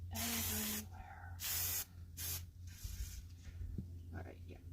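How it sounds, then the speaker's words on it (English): Spray bottle misting during furniture decoupage, loud broadband hissing bursts in several separate squirts, with some quieter spraying and talk in between. "Whoa, spraying everywhere."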